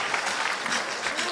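Audience at a Jaipur mushaira poetry recital clapping, a brisk, even burst of many hands applauding with no voices on top.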